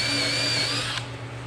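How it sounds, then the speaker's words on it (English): A power drill whines steadily while boring pilot holes into a wooden board, the pitch dropping and fading as the bit finishes; close and continuous, with no talking. "now I just got to drill those out to my pilot"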